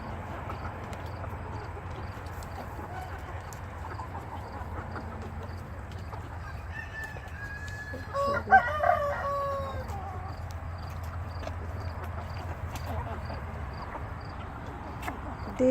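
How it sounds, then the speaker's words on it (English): Backyard chickens cluck softly over a low steady hum, with a rooster crowing once in the middle, fairly close. "These are my beautiful chickens."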